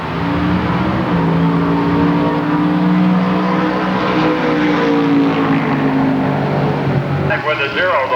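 Ford Thunderbird drag racing at Milan Dragway, a steady loud engine roar with sustained droning tone, a commentator talking over it throughout.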